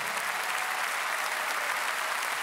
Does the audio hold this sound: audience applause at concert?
yes